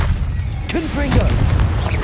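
A Confringo fire spell goes off in Hogwarts Legacy, a loud low boom with a brief burst. A voice is heard alongside it against a dense rumbling background.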